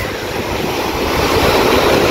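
Sea waves wash on a beach in a steady, loud surf roar that swells slightly over its length and is mixed with some wind noise.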